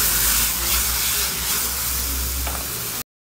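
Colored bell peppers and onion stir-fry in a hot pan for chicken xadrez, a steady loud sizzle with soft scraping as the vegetables are moved around, no talking.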